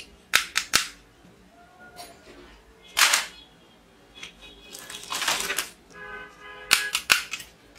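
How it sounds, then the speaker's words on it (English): A realistic toy sniper rifle fires a series of sharp, snappy clicks and cracks, a quick double shot at the start, then scattered single reports and clusters close up. "Wow, realistic sniper rifle."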